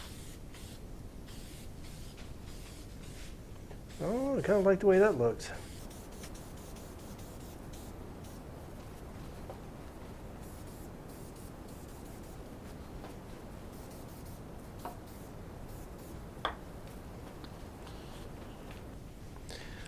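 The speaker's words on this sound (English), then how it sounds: "So the first thing I'm going to do is get a coat of clear spray shellac on them." A spray can applying clear shellac to saw handles, a continuous hissing spray running steadily throughout at moderate loudness, with a person briefly speaking over it early on.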